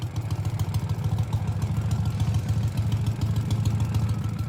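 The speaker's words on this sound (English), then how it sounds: "This is a Russian sidecar motorcycle that hasn't fundamentally changed since World War II." A Ural Gear Up Russian sidecar motorcycle of unchanged World War II-era design idles steadily, its low, lumpy engine throb running continuously and close by with no talk over it.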